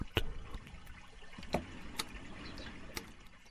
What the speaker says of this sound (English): as they lap up against the boat